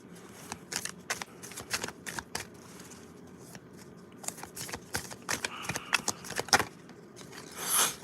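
Cards shuffled by hand during a mini card reading to draw a new card: close, rapid riffling and flicking in uneven bursts across the whole stretch, with short pauses between runs and no speech.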